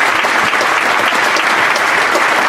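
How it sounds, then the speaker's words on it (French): Loud, dense applause from a comedy show audience in Colmar, a thick continuous roar of clapping that stays at full strength throughout the short stretch. "on peut applaudir monsieur Stroman"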